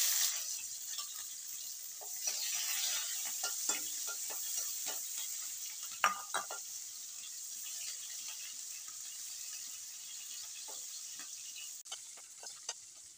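Onion frying in oil in a home kitchen, a soft, steady hiss with occasional small crackles and light stirring taps, fairly quiet throughout.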